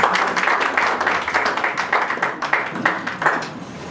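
Church congregation applauding together, a dense run of hand claps with an uneven, pulsing rhythm that swells and dips over a few seconds, close and lively.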